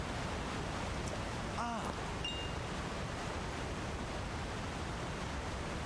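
Waterfall in Zelda: Tears of the Kingdom, a steady full-band roar of rushing water that holds level throughout, with a few faint chirps and tones briefly over it near the start.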